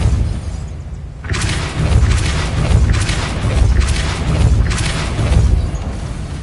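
Depulso push charm in the Hogwarts Legacy video game, a sudden whooshing blast around one second in, followed by a run of loud rumbling, crashing pulses as the spell strikes an obstacle.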